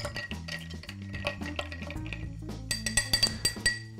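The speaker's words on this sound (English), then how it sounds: "Throw in some ice, stir it up" Ice clinks and rattles against glass as a Manhattan cocktail is stirred, a close, continuous run of light chinks that grows brighter and more rhythmic toward the end, with no talking.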